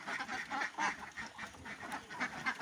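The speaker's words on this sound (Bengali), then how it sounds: "হাঁস ছেড়ে দিলে সুন্দরভাবে কিন্তু পুকুরে চলে যাবে" Ducks quack repeatedly in a loose, busy chorus as they are let out toward a farm pond, moderately near and fairly soft, with no talking.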